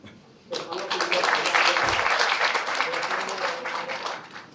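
An audience at a research funding briefing breaks into warm applause welcoming introduced officials, clapping rising suddenly after a quiet moment and continuing steadily near the front.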